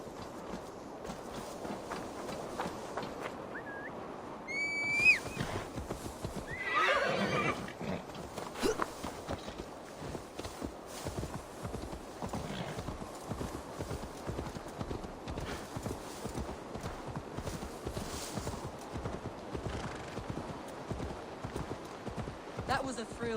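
Horse hooves clip-clop at a walking pace in Assassin's Creed Valhalla, a steady rhythmic trot with a whinny near the start, under game music and speech.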